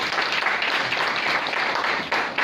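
An audience claps together in steady, dense applause for a teamwork talk, the sound staying full and even throughout the short burst.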